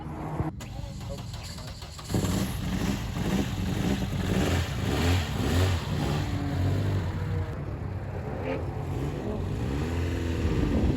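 A twin-engine Corsa car runs and accelerates with a loud, steady engine roar that rises after a couple of seconds and holds throughout, heard from inside with faint voices underneath.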